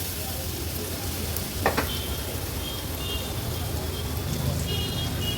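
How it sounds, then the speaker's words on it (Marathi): Coarse ground masala paste sizzling and frying in hot oil for an Agri-Koli style fish curry, a steady close crackle with a brief stirring clatter partway through. "तेलावर वाटण थोडंसं मी परतून घेते."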